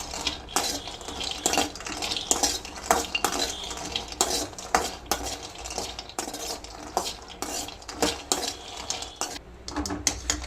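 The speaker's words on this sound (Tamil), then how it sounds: "நம்ம எடுத்து வச்சுருக்க முந்திரி பருப்பு சிம்மில் போட்டுட்டு லைட்டாக வச்சுக்கலாம்" Cashew nuts roasting in a pan while a metal spoon stirs them, busy scraping and clinking against the pan with a light sizzle underneath, close and continuous.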